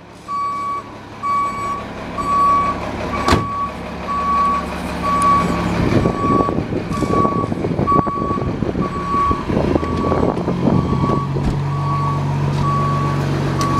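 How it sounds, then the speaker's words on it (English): Evenly spaced reversing beeps ring out from a Snap-on tool truck backing up, carrying on for the whole stretch over a rumbling engine, with a sharp knock early on and growing mechanical clatter. "So sorry about the beeping, we got a Snap-on truck coming back here."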